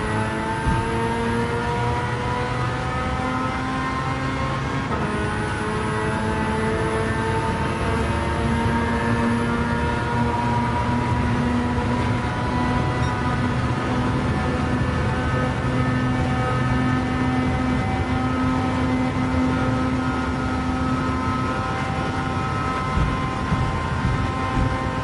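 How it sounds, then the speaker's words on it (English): Car engine in Gran Turismo 7 racing at Tokyo, a steady loud drone with harmonic tones that dip slightly as the motor bogs, then hold evenly throughout with no talking. "Let that motor bog just ever so slightly."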